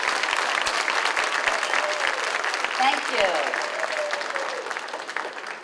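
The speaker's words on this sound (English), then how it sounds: "So could we give them a little round of applause?" Audience applause at a 4th grade school winter chorus concert fills the clip with steady, dense clapping from a full room, while a voice speaks briefly over it.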